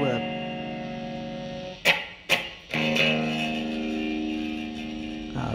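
An electric guitar runs through a Line 6 POD HD300 with reverb added, sustained chords washing out with a long tail. A few sharp strums cut in partway through, close and moderately loud.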